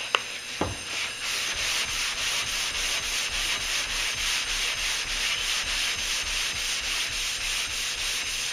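Steady, continuous block sanding across a primed Duramax truck hood, a close, even abrasive rasp of paper over guide coat that runs uninterrupted after a brief knock at the start, with no talking.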